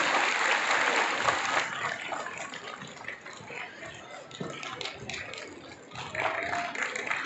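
An audience at a school annual day celebration claps and applauds in a sustained, dense patter of hands that swells at the start and again near the end, with a voice faintly audible under it.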